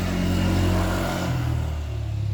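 A Honda Vario scooter engine cranks and catches, a steady close motor drone that shifts pitch partway through as it settles, with no one speaking.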